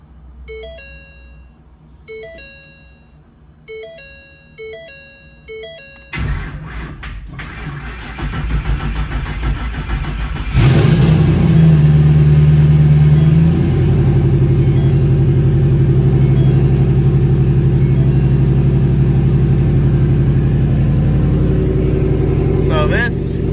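A 2020 Ford Shelby GT500 cranks over and fires, a soft electronic chime sounding first, then the engine catches with a loud rising burst and settles into a strong, steady roar close by.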